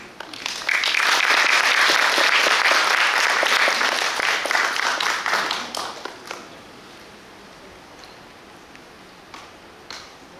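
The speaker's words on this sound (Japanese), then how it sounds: "どうぞ大きな拍手でお迎えください。" Loud, sustained applause from the audience at an Awa Odori dance performance in a dance hall, many hands clapping together for about five seconds before tapering into quiet with a few scattered claps.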